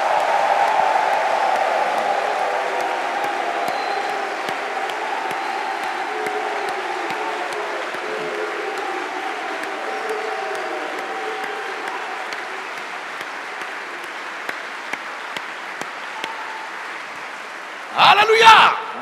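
Church congregation applauding and cheering in praise, a broad sustained wash of clapping and voices that slowly fades, ending in a short loud burst of noise.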